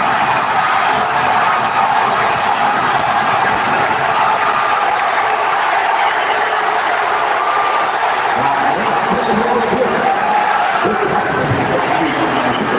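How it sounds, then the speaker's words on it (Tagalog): Basketball arena crowd roaring during a PBA semifinal between Barangay Ginebra and San Miguel Beermen, a loud, sustained wall of cheering and whooping with steady intensity throughout, and a few brief sharp whistles or shouts near the end. "And listen to this crowd roar!"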